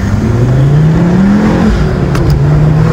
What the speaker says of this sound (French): à 4000 tours, le turbo se met en pression et là, j'arrache